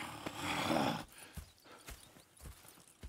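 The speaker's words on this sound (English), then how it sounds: "Go check the horses are ready." Horses in the video game Red Dead Redemption II: a neigh or snort up front, followed by scattered clip-clop hoof steps at close range.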